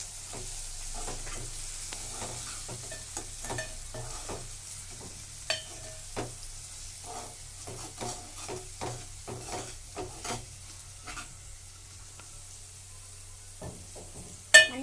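Ingredients with salt get stirred and mixed in a frying pan, a soft sizzle underneath scattered scraping and clinking of the spoon, with a sharper knock at the end.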